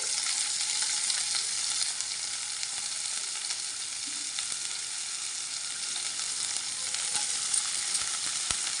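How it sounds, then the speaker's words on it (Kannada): Stalks of medicinal greens sizzle steadily in a hot pan, fried the way okra would be for a chutney; a dense, even crackle of frying continues without pause and no one speaks. "ಇಲ್ಲಿ ನೋಡಿ ಈಗ ಇದನ್ನು ಹಾಕ್ಕೊತೀನಿ ಕಡ್ಡಿಗಳನ್ನು ನಾವು ಬೆಂಡೆಕಾಯಿ ಹುರ್ಕೊತೀವಲ್ಲ ಸೇಮ್ ಅದೇ ಥರ ಹುರ್ಕೊಳ್ಳೋದು ಇದಕ್ಕೆ"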